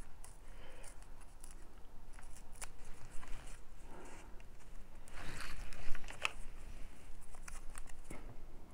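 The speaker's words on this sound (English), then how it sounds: "I'm gonna tear it and still make it legible." A paper Christmas tag for a botanical junk journal is torn by hand in short, soft ripping bursts, close and quiet, with light rustling and handling noises between the tears.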